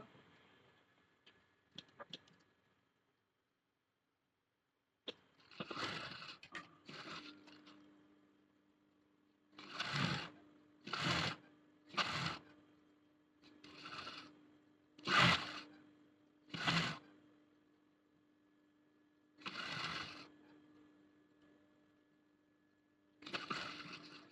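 A sewing machine stitches a school uniform collar in short separate runs, each a brief mechanical whirring burst, close and moderately loud, with quiet gaps and a steady low hum between them.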